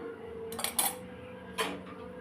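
A spoon clinks against a pot while roasted cumin and pepper powder goes into boiling rasam, two or three light metallic taps over a steady low kitchen hum.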